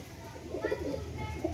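A pet pigeon belonging to a pigeon keeper gives soft, low coos close by. People chat quietly in the background.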